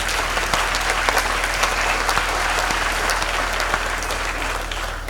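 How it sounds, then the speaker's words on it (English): At a university graduation ceremony on a main campus, a large audience claps in sustained applause. The dense patter stays steady and full throughout over a faint low hum from the hall. "I thought that you would give a round of applause there."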